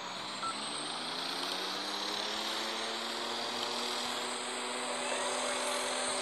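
Airliner engines spool up for takeoff in the flight game Airline Commander, a steady loud synthetic roar with rising engine tones that builds continuously throughout, no voices.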